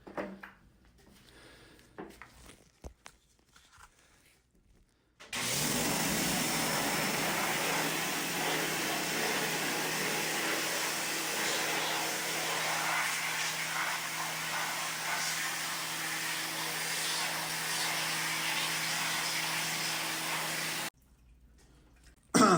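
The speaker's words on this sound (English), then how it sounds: "now I can use the pressure washer to remove all the rest of the emulsion" A pressure washer blasts emulsion off a screen-printing screen, a loud steady hiss of spraying water lasting about fifteen seconds after a quieter start, then cutting off.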